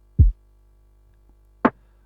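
Lofi snare drum sample, nearly unprocessed apart from a little EQ trimming the highs and lows: two short, dry hits about a second and a half apart, the first duller and lower, the second sharper and brighter, with no other sound.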